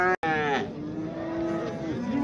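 Cattle at a livestock market in Shymkent give one long, drawn-out low moo close by, with a lighter cry breaking in at the start and steady market bustle underneath.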